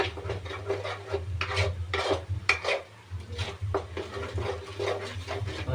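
A spoon scrapes and stirs masala and salt around a metal pan for a dhaba-style paneer curry, giving repeated close rasping strokes in an irregular rhythm over a low steady hum, with no talking.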